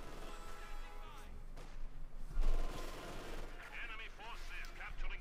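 Katyusha rocket barrage in the Company of Heroes 2 strategy game, a dense run of battle blasts and gunfire crackle under a caster's continuous commentary.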